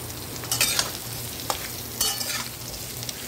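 Mango pieces for a sweet-sour-spicy chutney go into a pan of oil frying panch phoron spices, giving a steady soft sizzle broken by a few louder stirring scrapes, with no talking.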